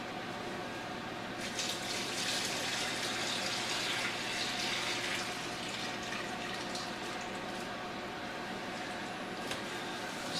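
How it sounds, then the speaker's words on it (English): Brine pours steadily into a crock of sour cabbage, a continuous soft gushing and splashing that stays even and fairly quiet throughout. "So I got to put maybe another half a batch of brine in there to get them covered up."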